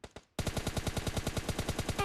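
Enemy bots open fire in a rush-mode shooter game: two quick single shots, a brief pause, then a loud, sustained rapid-fire burst of automatic gunfire with an even rattling rhythm.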